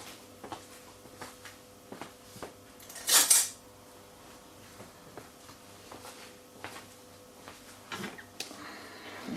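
Metal teaspoons and cutlery clink and rattle as someone rummages among utensils while making soap, with one loud clattering burst of jangling metal amid lighter scattered taps.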